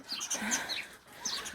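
Domestic poultry cluck and chirp in a series of short, soft, high calls, faint and close by over a quiet background.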